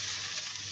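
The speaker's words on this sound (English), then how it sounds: "So in goes the ginger and the garlic, and that's sizzling away straight away." Ginger and garlic hitting hot oil while making Gobi Manchurian, giving a dense, steady sizzle close by for under a second.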